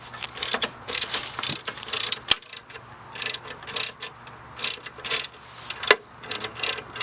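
A ratchet tightening a bolt on a Mitsubishi 3000GT axle, with bursts of rapid clicking in short strokes, close and fairly loud, separated by brief pauses and a couple of sharp metallic knocks.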